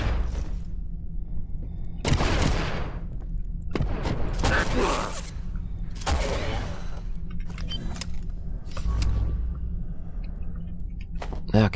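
Enemy gunfire in Abiotic Factor comes in several loud, dense bursts of shots with clattering mechanical noise between them, and a voice talks underneath.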